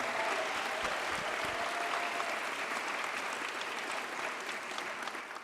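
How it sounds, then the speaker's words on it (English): A crowd at an Armenian Genocide commemorative event applauds Congressman Adam Schiff, producing a steady, dense wash of clapping that holds evenly throughout and tapers slightly at the end. "Let's give a round of applause for our great Congressman Adam Schiff once again"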